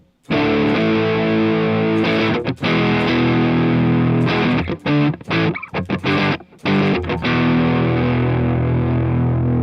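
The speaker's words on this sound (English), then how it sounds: "we have a distortion tone, which I'm going to show you guys real quick. Just a couple of power chords." Heavily distorted electric guitar strums a few power chords through AmpliTube amp software, ringing loud and sustained, with brief gaps and choppy stops between them.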